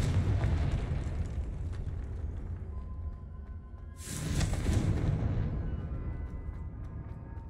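Confringo fire spell blasts in Hogwarts Legacy: a deep rumbling explosion with a sudden bright burst partway through, then a rolling decay, moderately loud against a low game-ambience bed.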